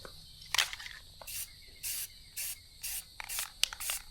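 Short bursts of spray paint hiss into the cabin vent hole of a Lexus GX470 inside a paint booth, about seven regular pulses of roughly half a second each, close and fairly quiet.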